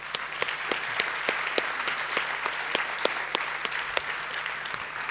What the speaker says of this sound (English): Let's give a round of applause to the people who won prizes.